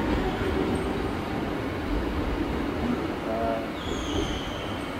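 A steady low rumble of a train rolls on throughout, with faint squeals and a short high whine near the end.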